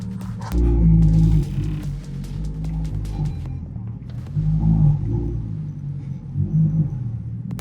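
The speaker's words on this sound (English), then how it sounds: "It's very loud on a cold start. I think it's straight pipe, no headers, no nothing, just loud." A straight-piped Audi R8 with no headers rumbles loudly on a cold start, its deep exhaust note swelling in heavy surges near the start, middle and end.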